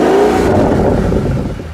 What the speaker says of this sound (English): it would be a crime to film a video about this car and not show off its exhaust